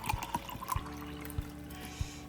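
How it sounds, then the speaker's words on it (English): Leftover bottled water is poured from a bottle into a drinking glass, giving a soft, close trickle with a few gulping glugs. It is quiet and brief, and no one speaks. "I have some bottled water that I didn't finish, and I'm gonna just fill my glass up"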